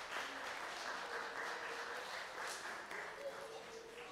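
Applause for the winners at a live-streamed event, a steady wash of crowd clapping that holds at a moderate, distant level with faint voices mixed in throughout.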